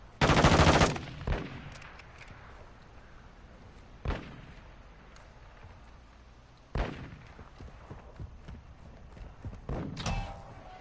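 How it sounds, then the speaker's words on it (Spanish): Scattered gunfire in Call of Duty Warzone DMZ, a short burst followed by several isolated sharp shots spaced seconds apart, some near and loud, others fainter, over a quiet background. "Disparan."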